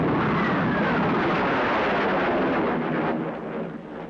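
A 1953 aircraft's delayed roar arrives after supersonic flight as a loud, rumbling wash of jet noise that holds steady and then starts to fade toward the end.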